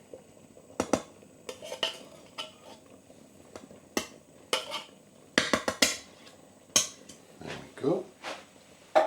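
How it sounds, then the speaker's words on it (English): A spoon clinks and scrapes against a pot while sweet potato coconut curry is stirred, irregular close knocks and clatters with short gaps between them. "So again, I'll just give that a stir around, make sure that is all nicely"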